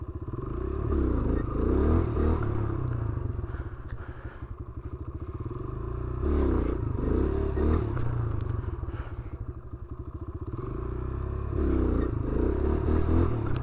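Motorcycle engine held at steady revs through a wheelie on a Long Island street, loud and close with rising and falling surges, scraping and clattering bursts between.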